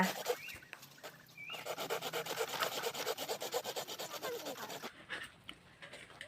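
A hand saw rasping through wood in quick, regular back-and-forth strokes, fairly close, pausing near the end before a few more strokes.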